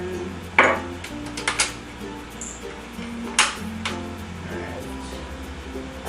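A regular non-stick pan is handled on a home stove, making a few sharp metallic clanks and taps close by with a ringing ping. Between the knocks there is quiet kitchen hum.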